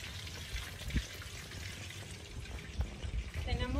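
Mojarra fish fry in hot oil on a disco pan outdoors, giving a continuous close sizzle and crackle with occasional bubbling pops and a few clatters.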